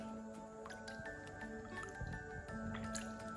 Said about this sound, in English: We submerge everything in the water, then like that.